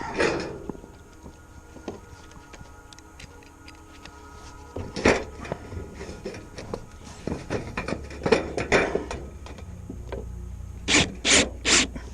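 Hand work on a wooden decking board being cut to fit outdoors, with scraping, rasping strokes building into a string of quick, rhythmic sawing bursts toward the end.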